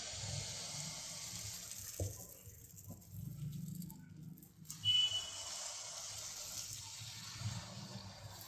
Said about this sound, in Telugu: ఇప్పుడు ఎక్కువ వాటర్ వేసుకోవాలి